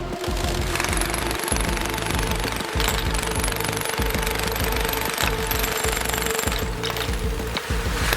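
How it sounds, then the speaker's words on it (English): Heavy rotary drilling rigs bore into solid Manhattan schist for skyscraper foundation work beside a fragile landmark wall, a loud, continuous rapid pounding and grinding with brief pauses, close and steady throughout. "Heavy drilling rigs begin foundation work just inches away from the fragile landmark wall"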